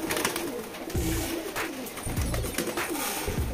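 Pigeons coo repeatedly in low, throaty bursts at a pigeon loft in Latur, Maharashtra, several birds close by with a steady outdoor hiss behind them.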